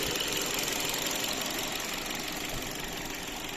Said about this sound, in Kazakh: Мотор жагы ровно, четко иштеп турат.